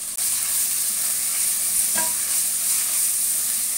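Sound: mint, coriander, tomato and turmeric sizzling in tempering

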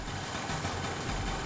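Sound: Yamaha scooter engine running at idle after starting

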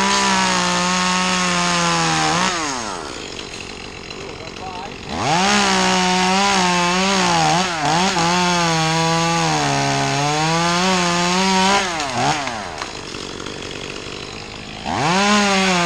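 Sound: sawing tree trunk

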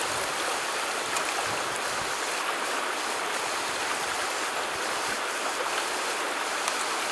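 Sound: water running through a DIY field water filter

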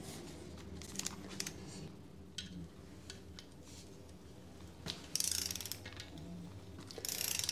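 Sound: ratchet tightening a spring force bolt hanger

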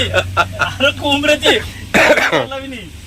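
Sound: cough

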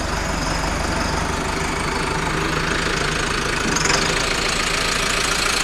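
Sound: tractor engine idling

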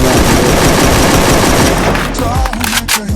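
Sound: gunfire in the video game Free Fire

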